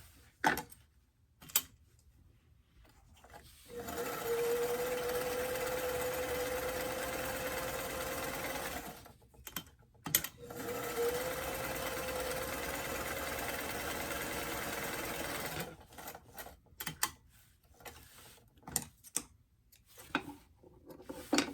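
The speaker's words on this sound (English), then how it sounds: "I like to do a little zigzag edge along the bottom hem before I hem the pants." A sewing machine runs a zigzag stitch along the bottom hem edge of small doll pants, two sustained whirring runs of a few seconds each, separated by brief handling clicks and pauses.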